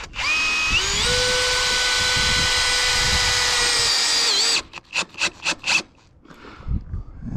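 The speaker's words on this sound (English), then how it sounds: "All right, I'm gonna put my first fastener in." Cordless drill whines at steady high speed as it drives the first fastener into a metal roofing panel, close and loud, pitch holding then dipping as it seats, followed by several short rattling bursts.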